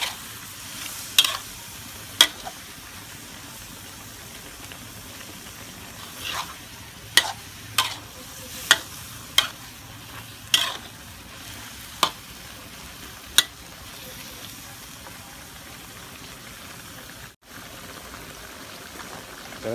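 Sponge gourd and pork stir-fry hisses softly in a pan while a utensil strikes and scrapes the metal in a run of sharp, evenly spaced clacks, close up and with no voices.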